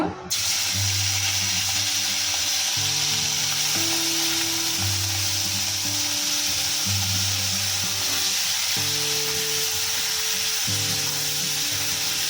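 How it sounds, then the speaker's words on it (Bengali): Shrimp frying in a pan for a pointed gourd and shrimp curry, a continuous close sizzling hiss that holds steady under a melodic background tune. "একটু ভেজে নেব এখন চিংড়ি মাছটা দিয়ে দেবো"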